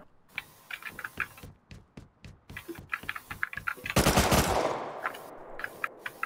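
Gunfire in the Rust video game, a rapid mix of sharp shots and clicky bursts in uneven clusters, with one louder, longer blast in the middle.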